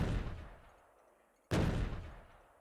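Gun turrets firing in Factorio, two loud bursts of gunfire, the first fading out over about a second and a half before a second sharp volley starts and decays again.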